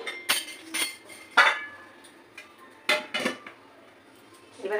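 A metal plate is set over a pot of biryani in a home kitchen. Several bright metallic clinks and clanks come close to the mic in an irregular sequence, with quiet gaps between them and no talk.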